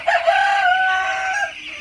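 A broiler chicken's loud, drawn-out crowing call rings out close by, one sustained note lasting nearly two seconds with no talking.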